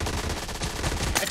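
Rapid automatic gunfire in PUBG Mobile, a dense stream of close shots lasting just over a second.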